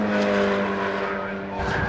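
A BRSCC Mazda MX-5 race car laps Brands Hatch during a 2013 championship race, its engine a loud, sustained, strained drone close by that shifts slightly in pitch as it passes through.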